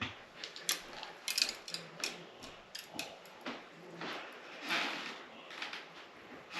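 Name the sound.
fishing reel being tightened onto rod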